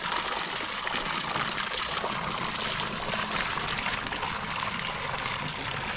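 Water pours steadily into a swimming pool with a continuous broadband rushing flow, loud and close, with no talk over it.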